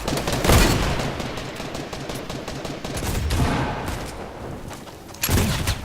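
Gunfire from the new flintlock pistol in Fortnite, with a few heavy, spaced shots ringing out over a steady background of game noise, including a loud blast near the end.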